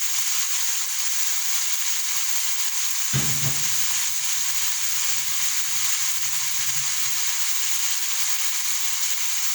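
Chicken pieces for sinampalukan sizzle loudly and steadily in a pot, a continuous frying hiss with a brief stirring clatter partway through.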